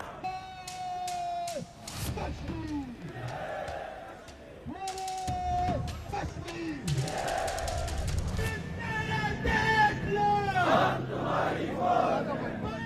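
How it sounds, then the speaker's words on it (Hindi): A protest crowd in the streets of Pakistan-occupied Kashmir, chanting slogans in loud rhythmic bursts with shouts and a rising roar of many voices. "भीड़ सड़कों पर निकल आई है।"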